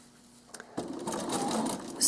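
A sewing machine stitches faux-piped binding on a quilt, starting after a couple of soft clicks and then running in a steady close whirring hum.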